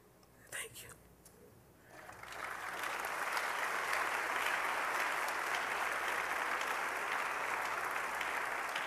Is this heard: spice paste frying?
no